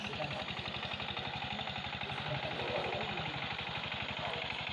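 A tractor engine runs in a muddy rice field in Kolhapur, a steady low, rapid throbbing that stays close and constant throughout, with a voice faintly underneath.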